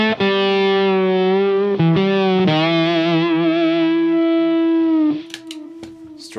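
Electric guitar through a Fender overdrive, sustained distorted chords with rich harmonics played loud and alone, a few chord changes before a brief noisy pick scrape at the end.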